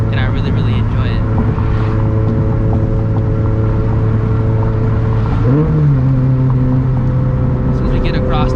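A turbocharged Toyota GT86 with a catback exhaust drones steadily and close at a low, even pitch, with a brief upward swell in revs midway before settling back. Voices may murmur faintly beneath the engine.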